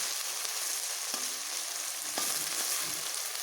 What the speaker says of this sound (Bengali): আমি সেমভাবে এগুলোকে এইভাবে ভাজবো যেন গায়ে গায়ে লেগে না যায়